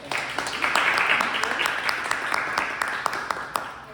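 An audience at a talk applauds to welcome a speaker, with dense clapping that swells quickly and then gradually thins out into scattered claps.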